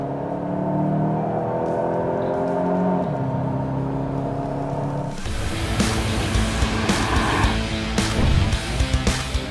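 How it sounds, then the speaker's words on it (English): Volkswagen Golf GTI hot hatch in sport mode on a track, engine droning steadily before a gear change opens into a louder, rasping exhaust roar with crackles as it accelerates hard. "Put it into sport mode and the exhaust sounds amazing belting down the track."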